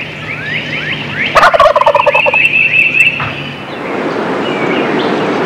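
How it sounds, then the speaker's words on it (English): Wild turkeys gobble in the early morning during mating season: one loud, close gobbling burst rattles out over a steady outdoor background, with fainter calls before and after it. "To film turkeys successfully, you have to be there early in the morning before the turkeys leave the trees."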